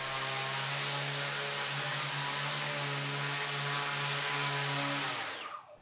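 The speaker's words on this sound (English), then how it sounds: "I mounted some propellers to check how well it corrected for any external movements." Propellers spin on a VTOL aircraft during a motor test, giving a steady, high-pitched whirring drone with sharp tonal whine that runs evenly and then winds down at the end.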